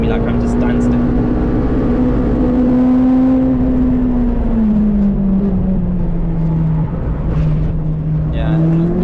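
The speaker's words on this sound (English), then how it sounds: "you heard the supercharger and that was pretty cool" Supercharged Honda Civic EP3 Type R lapping Castle Combe race circuit, its engine droning loud and steady with a whining pitch that sags and climbs again, close up and continuous, with faint voices underneath.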